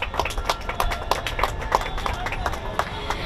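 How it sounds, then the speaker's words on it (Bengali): An audience at a Durga Puja award ceremony clapping loudly, a dense burst of applause with quick, uneven hand claps close by, voices audible along with it. "জোরে হাততালি হোক একবার"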